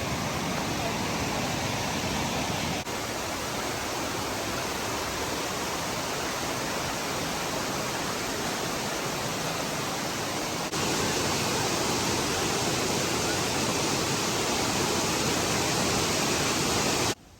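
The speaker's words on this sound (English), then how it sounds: "I finally made it to the waterfall and the water was coming down so hard and fast." A waterfall at the end of a hiking trail pours down hard and fast, a dense, steady roar of rushing water that fills the whole stretch without letting up.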